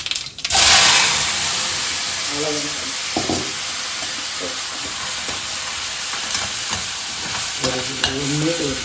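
Country chicken drops into hot oil with popped mustard seeds, setting off a loud burst of sizzling that settles into a steady fry. Occasional stirring knocks follow, and a voice talks intermittently over the sizzle.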